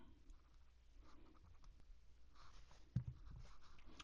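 Cardboard and paper rustling as an iPhone 17 Pro retail box is unboxed, with soft scratchy handling noises and a brief sharper knock near the end, fairly quiet and without talk.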